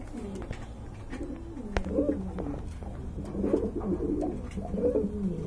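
Pigeons at a sale of local and foreign breeds coo repeatedly in soft, low, throaty calls, several birds overlapping at close range against a faint background hum.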